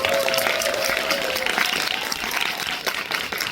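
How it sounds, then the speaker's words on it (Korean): An audience at a film talk event claps together, a busy patter of many hands that is fairly loud and close at first, then gradually thins with scattered sharper claps toward the end. "한번 박수 드릴까요?"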